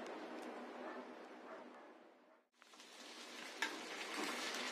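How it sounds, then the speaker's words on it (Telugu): Garlic and cumin seeds frying in a pan, a dense, steady crackling sizzle that briefly drops away midway, then returns with a few sharper pops as the spices are stirred. "వెల్లుల్లిపాయలు, జీలకర్ర వేసి ఈవెన్గా ఫ్రై చేద్దాం."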